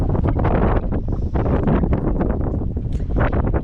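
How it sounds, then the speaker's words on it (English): Strong northerly wind gusting at an anchorage in Bahia Concepcion aboard a sailboat, loud continuous buffeting roar across the microphone with rustling and surging gusts. "there goes the wind. The northerlies have started again as well."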